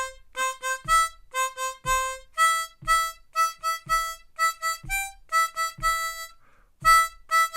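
Harmonica in C playing a song intro, short punchy bursts of bright reedy chords in a repeating rhythmic pattern, each phrase ending in a held note, with a faint low foot tap beneath, close and alone.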